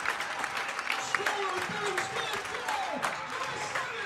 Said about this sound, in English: As the crowd go into absolute pandemonium